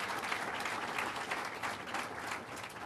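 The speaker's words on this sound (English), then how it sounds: "Let's give them a round of applause." Audience in Watertown applauding General Brown High School students during a state address, a steady, full burst of clapping from a large crowd with no voices over it.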